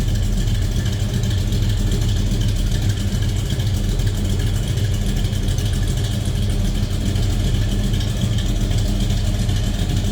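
The 396 big-block V8 engine of a 1969 Chevrolet Nova idles nearby, a loud, deep, continuous rumble that holds steady throughout.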